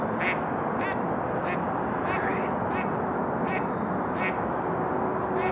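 Ducks quacking at sunrise around 5:48 AM, repeated harsh quacks in an irregular rhythm, fairly close, over a steady broad background hiss of outdoor ambience.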